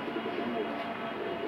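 A racing pigeon back a day after a tournament, cooing in a short, low, throaty murmur, close and fairly steady for a brief moment.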